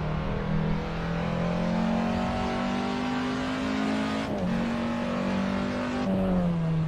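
A race car's engine drones steadily at high revs during a practice session in a racing video game, with two sharp dips as it shifts gear. It is loud and continuous, with no talk.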